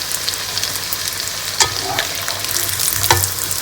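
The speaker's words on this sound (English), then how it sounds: "ऐसे ही हम सारा पास्ता फ्राई कर लेंगे" Pasta fries in hot oil for a crispy snack, giving a loud, close, continuous sizzle broken by a few sharp clinks and scrapes of stirring.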